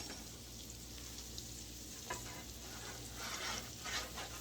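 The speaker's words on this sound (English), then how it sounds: "you want the frying pan to already be a little hot so it sears the outside" Chicken sizzling steadily in a hot frying pan, a constant crackling hiss with occasional louder pops.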